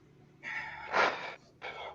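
Heavy, forceful breaths from a man during an abdominal exercise set, three harsh exhales with a louder gasping middle one, close and without speech.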